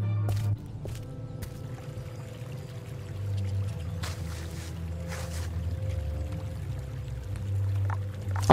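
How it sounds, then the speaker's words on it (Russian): Clay being scooped with a small shovel in a Christmas hidden-object adventure game, soft wet squelching and pouring sounds beside a trickling stream, steady and close with a low hum beneath. "Может быть, совком зачерпнуть глину?"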